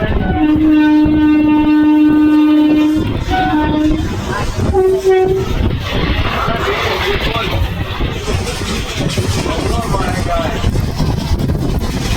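A passenger train runs through rainy farmland in Gujarat, its horn sounding loud and sustained at the start, then giving way to steady rolling rumble and wheel noise on the rails.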